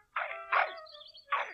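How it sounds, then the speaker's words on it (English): A small dog barks three times, short and sharp, close by, with brief pauses between barks and no other sound. "what are you barking at?"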